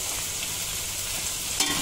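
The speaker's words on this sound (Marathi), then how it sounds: "आता जास्त नाही तर 2 ते 3 मिनिटं मस्त सॉटे करायचं, जेणेकरून हे कोळंबी आपली जी टाकलेली आहे ती शिजून येईल" Prawn rice being sautéed in a pan, a steady close sizzle with soft stirring scrapes running throughout and a brief louder clatter near the end.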